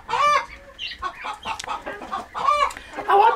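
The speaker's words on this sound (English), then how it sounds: "Look at how cool this chicken is." A mostly black hen clucks close by, several bursts of short clucking calls separated by brief pauses, loud and clear with no talking.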